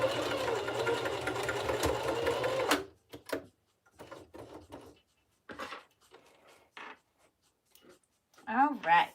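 A sewing machine stitches the neckline of a Japanese knot bag wristlet, a steady buzzing run for about three seconds, followed by short quieter bursts of handling and fabric sounds with a voice near the end.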